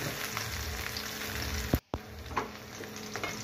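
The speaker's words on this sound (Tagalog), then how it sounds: "Lagyan na natin yung luya. Haluin na natin guys hanggang mag-aroma" Ginger sizzles in hot oil as it is sautéed and stirred in a pan for ginataang hito, a steady frying hiss with a brief knock of the utensil partway through.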